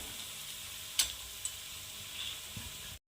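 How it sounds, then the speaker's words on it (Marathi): Tomato chutney cooks in a pan with a faint, steady low-heat sizzle, marked by a couple of light clicks from the spoon as it is mixed, quiet and close. "याला छान असं मिक्स करून पकू द्यायचं आहे"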